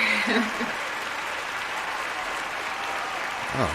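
A crowd claps in a dense, steady wash of applause throughout, with scattered voices and shouts mixed into the noise.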